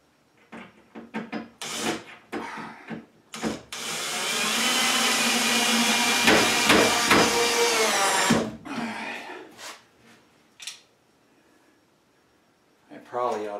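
A power driver runs screws into wooden cellar shelving, with a long steady whirring burst in the middle and a few shorter bursts and knocks around it, nearby and loud, with someone speaking before and after.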